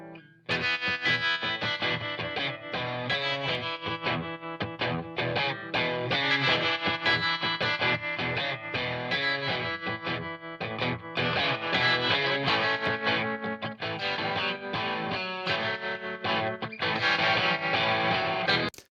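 Dense, distorted electric guitars play steadily within a full band mix, loud and sustained throughout with chorused, layered tone.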